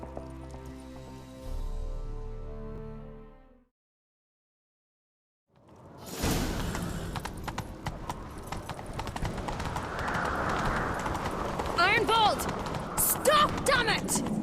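A horse gallops in the Witcher 3 video game: after a fading musical passage and a brief silence, rapid clip-clop hoofbeats run steadily under ambient noise, growing busier toward the end.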